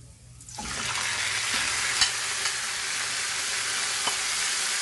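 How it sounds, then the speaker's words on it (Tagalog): Chicken drops back into a hot pan and bursts into a loud, dense sizzle that keeps on steadily, with a couple of faint clicks from stirring. There is no talk. "Saka natin ilalagay again yung chicken."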